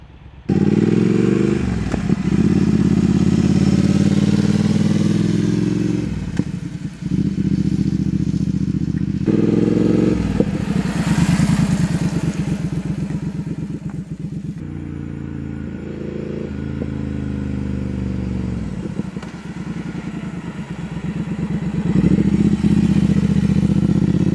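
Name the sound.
motorcycle engine running with aftermarket exhaust pipes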